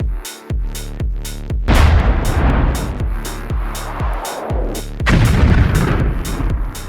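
Railway artillery in Minecraft's Create Mod firing shells: a rapid series of heavy booming blasts, roughly a dozen in seven seconds, loud and close, with rumbling tails and bursts of debris noise between shots.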